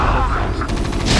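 Siege tanks in StarCraft: Brood War firing, a short loud burst of rapid overlapping gunfire and booms layered over busy battle noise.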